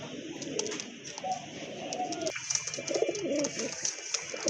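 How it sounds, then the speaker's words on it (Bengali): A pair of pigeons of two different breeds coo softly and repeatedly at close range, with low rolling calls and faint chirps over quiet background noise. "এখানে কিন্তু এক জোড়া কবুতর আছে"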